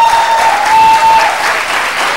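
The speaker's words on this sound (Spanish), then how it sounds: "quiero que nos demos un aplauso" An audience applauds during a Costa Rican university presidential debate, marking a celebration; dense, loud clapping fills the whole stretch steadily with a faint tone running through the first part.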